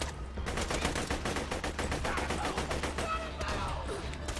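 Gunfire in the video game Borderlands 2, rapid repeated automatic shots in a steady burst sequence, loud and close, with a voice briefly audible underneath.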